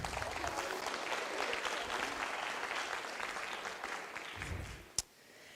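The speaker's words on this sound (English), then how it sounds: "let's give them a round of applause for that." Audience applause in a Fresno city council chamber after a proclamation honoring a high school cheer team: a steady, moderately distant clapping crowd that fades out, ending with a single sharp knock.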